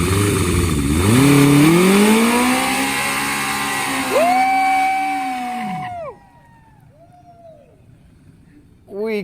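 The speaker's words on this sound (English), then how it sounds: "We couldn't resist smoking the tire just a little bit." A Kawasaki KZ1000 motorcycle does a tire-smoking burnout, its engine revving hard and loud close by, pitch rising and falling through several surges before cutting off abruptly. Quiet follows, then a brief noise at the end.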